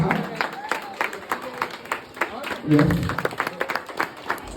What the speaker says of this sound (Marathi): जोरात टाळ्या वाजवत राहा.